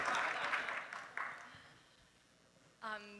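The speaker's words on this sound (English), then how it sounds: "Give her a big round of applause." A round of applause from an audience at a gala and annual meeting, loud at first then fading away over about two seconds, followed by a voice starting to speak.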